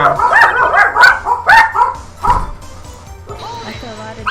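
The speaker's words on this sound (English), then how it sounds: "That's a lot of dogs." Several dogs in the game Phoenix Wright yap and bark in quick, loud bursts, a chorus of high yips close by, followed by a softer whimpering whine at the end.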